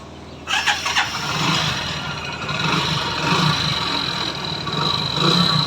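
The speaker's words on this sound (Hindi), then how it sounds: "तो चलिए हम बाइक को स्टार्ट करते हैं और हम आपको दिखाते हैं, इसका साउंड सुनाते हैं" A motorcycle engine starts with a burst and settles into a steady, loud running idle, close by, with no talk over it; a faint rooster or fowl may be in the background.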